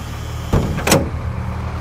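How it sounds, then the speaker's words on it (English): The emergency exit door of a school bus is opened during a pre-trip inspection, giving a sharp mechanical clunk followed moments later by a second louder latch clack, close by over a low steady background hum. "Open up the emergency exit."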